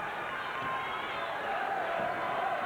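Basketball arena crowd and bench staff at the 1990 MAAC Championship game, La Salle versus Fordham, applauding a Fordham fast break: a dense, steady wash of clapping and crowd roar filling the whole stretch.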